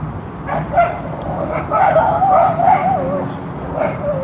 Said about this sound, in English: Puppy scuffle.